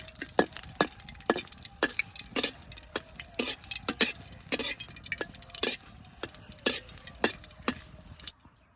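Dried red chillies frying in oil in a home village kitchen, giving a steady background sizzle broken by many sharp, regular clinks and scrapes of a utensil stirring in the pan, close and fairly loud.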